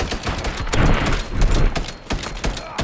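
Rapid bursts of gunfire in the online shooter Warzone, repeated sharp cracks layered into a dense, continuous firefight that stays loud throughout, with no talking.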